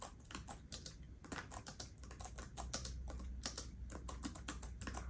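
Keys click steadily as someone types on the six braille input keys of a Mantis Q40 braille display, a quick, close, quiet run of light plastic taps with brief pauses.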